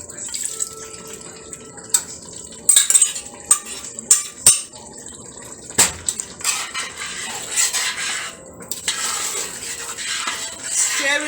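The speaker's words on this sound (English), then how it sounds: "Stirring is a continuous process because we don't want anything to be burnt here" Chicken stew being stirred in a pot, with metal utensil clinks and scrapes against the pot, some sharp knocks, and wet sloshing and watery noise building toward the end.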